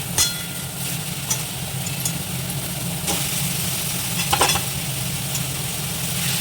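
Taro stolons go into a pan of sizzling fried spices and hilsa fish head, giving a steady close frying hiss with a few sharp stirring scrapes and clicks over it.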